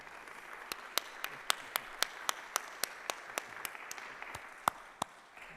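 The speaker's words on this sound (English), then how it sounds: "Our grateful congregation applauds your service." Applause from a congregation at its annual meeting: a steady, evenly spaced run of sharp hand claps, fairly close and moderately loud, over a faint hiss, with no talking.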